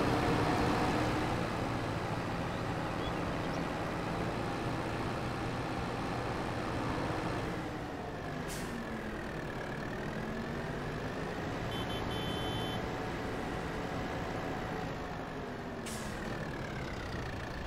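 Kubota M7 132 tractor engine running while driving, a steady close diesel drone with shifting tonal whine and rumble throughout, with no voices.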